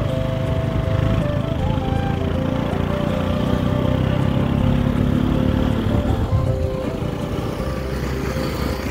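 A motorbike engine labours up a steep uphill road, its steady droning rumble loud and close throughout, easing slightly toward the end.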